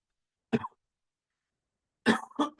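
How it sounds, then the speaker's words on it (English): A single short cough, then after a pause a burst of two or three harsh coughs close to the mic, with silence in between. "the cough is coming back"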